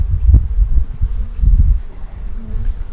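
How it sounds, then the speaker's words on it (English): Honey bees swarm in the air while a package is installed into a farm hive, a low rumbling buzz close to the microphone with pulsing surges and soft rustle. "There's going to be even more bees in the air."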